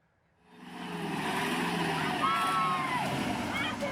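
A dump truck hauling soil in Nongsa, Batam, rumbles steadily close by as its engine swells from quiet into a sustained low roar, with busy street noise and scattered voices around it.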